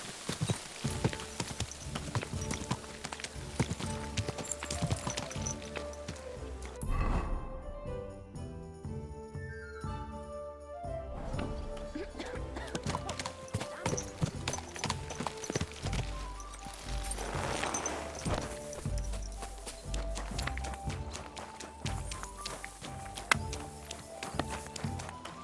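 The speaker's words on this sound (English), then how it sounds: "Easy, good horse." Horse hooves clip-clopping in the medieval role-playing game Kingdom Come: Deliverance II, a steady trotting rhythm with faint jingling tack, mixed under orchestral music and brief bits of speech.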